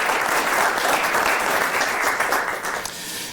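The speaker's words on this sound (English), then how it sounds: "A round of applause for those, our lead donors." A lecture audience at a hospital memorial event applauds donors with sustained, dense clapping that stays loud and even before thinning slightly at the end, no voices on top.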